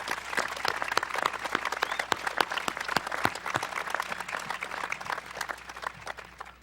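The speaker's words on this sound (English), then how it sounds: "Let's have a round of applause for all of the scholarship donors and the student who won these awards." Steady applause from a graduation audience honoring scholarship donors, dense overlapping clapping sustained for several seconds, close and even without pause.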